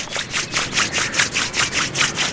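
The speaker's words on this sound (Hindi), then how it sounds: "ये दोनों हाथों को रगड़ेंगे सब लोग" Several people rubbing both hands together during a breathing-exercise session, a rhythmic series of about a dozen soft swishing strokes in an even back-and-forth pattern, with no talk.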